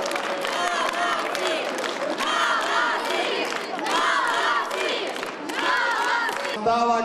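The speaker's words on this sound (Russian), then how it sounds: "Аплодисменты, аплодисменты." Crowd at a youth football tournament awards ceremony applauding and cheering, loud sustained clapping mixed with shouts and whistles, voices rising over it near the end.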